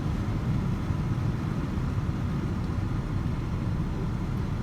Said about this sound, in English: Truck shifts really well.